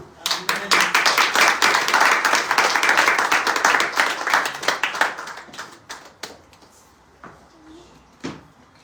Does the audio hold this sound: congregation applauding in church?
yes